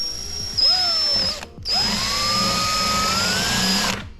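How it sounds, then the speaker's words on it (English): A power drill with a 1/4 inch bit bores a hole while a Mazda3 honeycomb grille is being installed: a close, steady whine rises in two bursts, with a brief stop between them. "This is a 1/4 inch drill bit."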